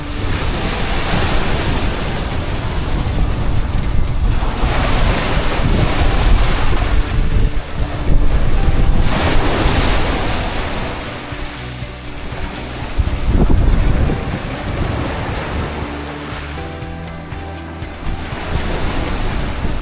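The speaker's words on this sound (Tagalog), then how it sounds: "Lakas lang alon." Heavy surf crashes continuously onto a pebble beach, loud and close, with rushing water and gusts of wind buffeting the microphone throughout.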